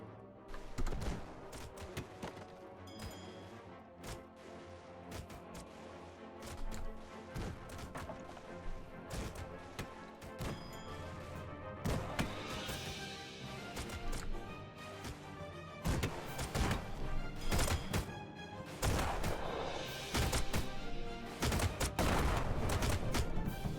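Cannon fire and crashing impacts from the airship battle game Airships: Conquer the Skies, a dense run of booms, thuds and smashes that grows louder and busier toward the end, with no talking.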